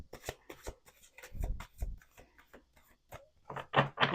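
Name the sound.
shuffling tarot cards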